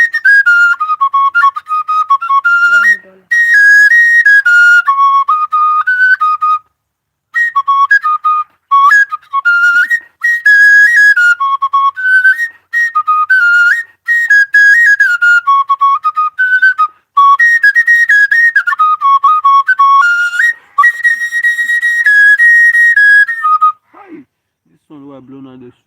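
Oja, the Igbo wooden flute of the spirit, played solo in bright, breathy whistling phrases with quick ornamented runs and short pauses, loud and close throughout.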